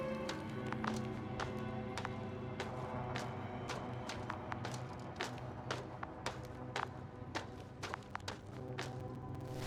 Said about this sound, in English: I have a lead. His footsteps.